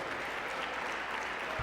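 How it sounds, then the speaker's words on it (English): Brief applause from an audience at a lecture, a soft steady wash of clapping heard at a distance. "Can we give Brother Aleem Muhammad another warm round of applause?"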